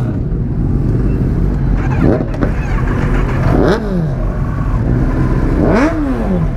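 A superbike engine at a college auto meet runs loudly and close by. Its exhaust roars through three rising revs over a constant idle rumble, with faint crowd noise in the background.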